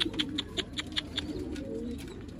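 Black Iranian highflyer pigeons with white beaks and eyes coo softly in a loft, with faint rhythmic chirping ticks over a low, steady murmur.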